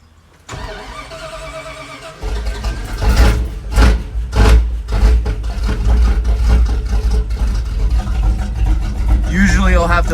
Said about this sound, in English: You do not have to start this truck with the clutch in as long as it's in neutral.